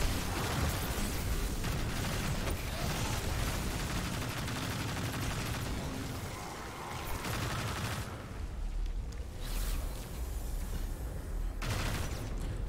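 Continuous rapid gunfire from a weapon in Destiny 2, fired inside a Lost Sector room to hit a rune, loud and dense throughout with short dips in intensity.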